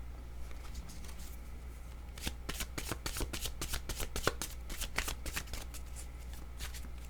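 Tarot cards shuffled by hand during a reading: a faint rustle, then from about two seconds a rapid flurry of crisp card snaps and slides that lasts to the end, with no talking.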